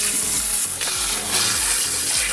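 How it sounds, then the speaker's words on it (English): Lukewarm water runs steadily while hair is rinsed at a salon sink, a close continuous splashing hiss with faint background music underneath. "I'm using more of a lukewarm, almost cold water because it's better for the hair"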